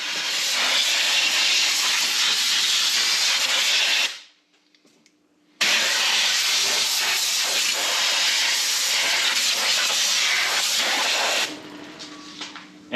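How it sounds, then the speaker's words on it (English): A compressor-fed air nozzle blows dust off the rocker covers of a VT Commodore engine in two long, loud, steady hissing blasts separated by a brief pause, ending with a quieter trailing hiss. "Now I've just fired up the compressor, got a bit of compressed air."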